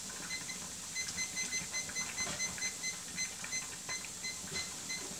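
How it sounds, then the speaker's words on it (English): Digital kitchen timer being set beside a pot of cooking tagliatelle, giving a string of short, faint electronic beeps in an even rhythm over low kitchen background noise. "So I'm going to time that. Stick the timer on."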